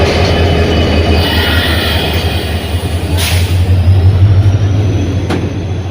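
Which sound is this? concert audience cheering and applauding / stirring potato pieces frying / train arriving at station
train arriving at station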